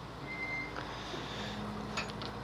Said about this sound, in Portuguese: Aqui um camião descarregar